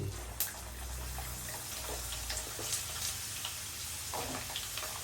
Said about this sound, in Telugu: ఆయిల్ అయితే మంచిగా హీట్ అయింది ఇప్పుడు నూనెలో వేయాలి